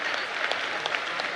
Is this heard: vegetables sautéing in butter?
no